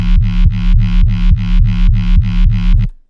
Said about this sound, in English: it's just a Monster 8 with a filter and distortion and compression